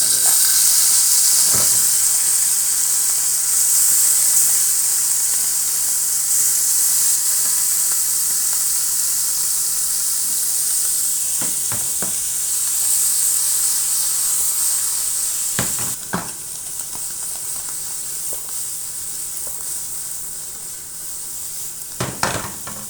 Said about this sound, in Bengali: এখানে দিয়ে দিছি তেল, এখন দিয়ে দেবো মাছ।